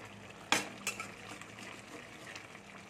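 A spoon scrapes and clinks in a pan of cauliflower vegetable curry with ghee, one sharp metallic knock followed by a softer tap and quiet stirring.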